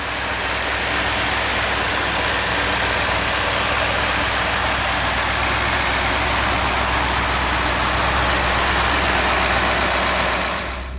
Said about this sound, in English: While it's at idle, you can't really tell if it's a V8 or V6.